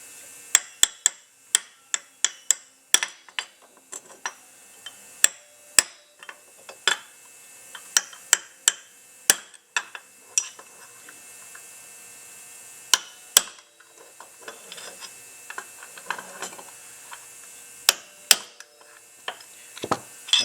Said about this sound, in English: I like to hit it in a few spots just to dent the casting so that it keeps this retainer from lifting up.